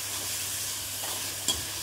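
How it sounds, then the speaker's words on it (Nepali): Mustard greens and yogurt fry and are stirred in spices in a pan, giving a steady soft sizzle close by, with one brief sharp scrape near the end and no talking. "साग, राईको साग र दही हालेर एकछिन यसलाई हामी भुट्छौँ"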